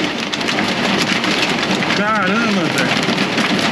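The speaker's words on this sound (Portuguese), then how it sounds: "Olha as pedrinhas batendo, velho." Hail pelts the windshield of a Volkswagen Kombi van in Argentina, making a dense, steady hiss of close impacts, with a man briefly exclaiming over it.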